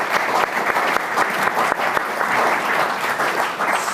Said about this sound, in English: So if you could give me a big round of applause for those,